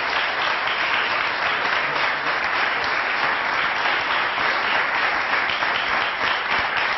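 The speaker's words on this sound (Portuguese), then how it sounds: "Um aplauso muito grande para estas mulheres" A studio audience on a television interview programme gives a big round of applause for a group of women, a sustained, even roar of clapping hands at steady volume with no pause.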